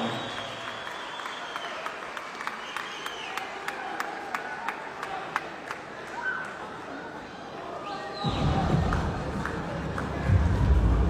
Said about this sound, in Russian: Аплодисменты спортсменам! Этот поединок завершен